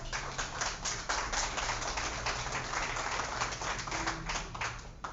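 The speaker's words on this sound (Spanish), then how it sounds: "Un aplauso, por favor." Applause from the audience at a book presentation, as a composer is introduced. The clapping is dense and steady, runs for about five seconds at moderate loudness, and has a low musical hum underneath.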